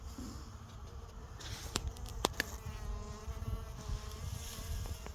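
Bees buzz steadily around the entrances of farm beehives, a continuous close droning hum with a few louder passes as individual insects fly right by.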